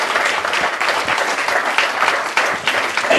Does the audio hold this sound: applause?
yes